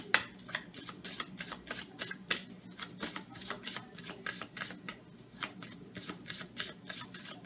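A tarot deck handled at close range, crisp rapid riffles and flicks of the cards repeating steadily with no talking.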